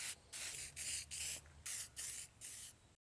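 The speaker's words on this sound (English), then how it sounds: "I spray painted them black." Six short bursts of an aerosol spray can of black paint hiss up close onto wooden dowel pegs, each lasting a fraction of a second with brief pauses between, then silence.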